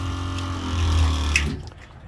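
Cold tap water running into a sink inside a mobile food trailer, a steady close hiss and splash that holds level for about a second and a half, then shuts off abruptly into near silence.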